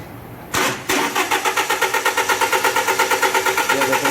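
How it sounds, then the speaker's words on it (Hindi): A 2013 Toyota Hilux with a misfiring problem cranks and catches, then settles into a loud, close, rhythmic idle with a clearly pulsing beat. "गाड़ी स्टार्ट हो गया"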